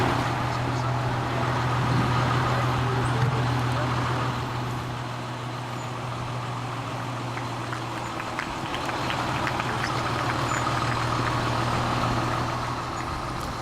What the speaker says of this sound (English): Here's our ladder truck,